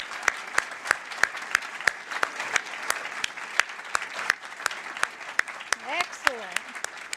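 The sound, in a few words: audience applause at an annual meeting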